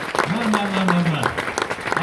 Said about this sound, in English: Can we have another massive round of applause for Anthony Young, please, everyone?